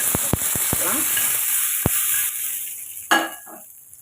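A tempering of mustard seeds, dried chilli and curry leaves sizzles in hot oil, with several sharp pops and clinks early on, a soft crackle fading, then one more spatula clink near the end.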